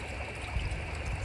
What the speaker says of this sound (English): here is our new water feature, which I bought for the loud